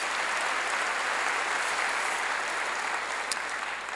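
Church congregation clapping during a sermon, an even, continuous roll of applause from many hands, heard at moderate distance with a uniform texture and one crisp clap near the end.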